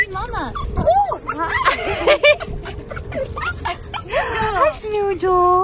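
A puppy whimpers and yips in high, sliding whines and short squeaks, repeated close up throughout while people talk to it.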